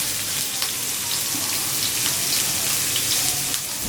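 Chopped onion shallow-frying in butter in a pan for a paneer vegetable dish, a steady bright sizzle with faint crackles running throughout, no voices.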